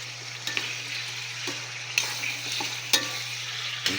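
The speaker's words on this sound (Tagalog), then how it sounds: "Igisa muna natin." Sautéing in a pan for Filipino tinola, a steady close sizzle with periodic scrapes and clinks of a utensil stirring, over a low constant hum.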